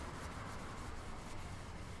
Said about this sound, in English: this time I used sanding sponges along with some water to avoid clogging